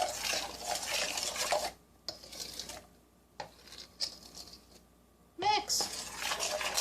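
Vegan banana pancake batter with cinnamon being stirred in a bowl, with scraping, clinking strokes that come in bursts separated by short pauses, and a voice speaking between them.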